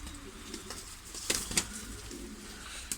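Pigeons coo and flutter their wings while being fed on a balcony in the rain, a couple of sharp wing flaps standing out over steady rain hiss.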